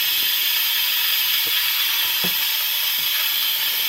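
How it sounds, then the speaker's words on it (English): A pressure cooker lid vents steam with a loud, continuous hiss that holds steady from start to finish, with only faint clicks underneath and no voices. "I know it's loud, but that's releasing the pressure"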